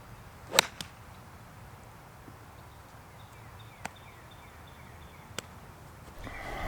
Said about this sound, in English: That was about as tough of a bunker shot as I have had in a very long time.